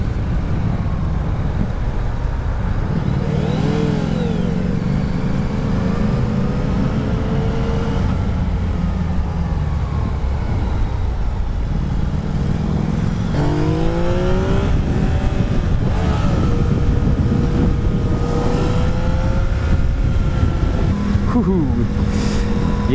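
A Yamaha XSR900 motorcycle engine revs and pulls hard through the lower gears on a test ride, its rising pitch sweeping up repeatedly over constant wind rush, with a rider talking intermittently.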